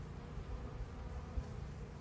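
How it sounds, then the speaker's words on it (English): Honey bees hum softly during an early May hive inspection, a low, steady, continuous drone near the hive with faint handling noises and no talking. "But the bees right now are not aggressive or angry or anything"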